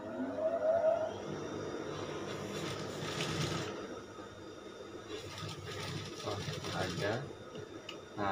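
Sewing machine stitching a shirt collar, a faint steady whirring of the needle running in short bursts while someone talks over it.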